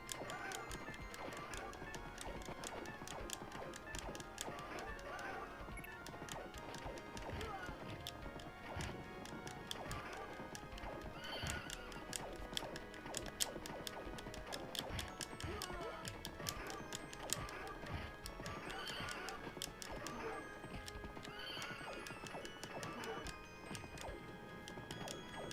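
Arcade beat 'em up Knights of the Round plays with a horse galloping amid clashing combat hits, rapid clip-clop and occasional crashes layered over game music, fairly quiet and continuous.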